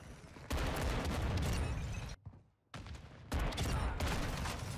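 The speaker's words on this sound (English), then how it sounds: "sentry gun" In Call of Duty MW2, a sentry gun fires dense, loud bursts of rapid gunfire that break off briefly near the middle and then resume.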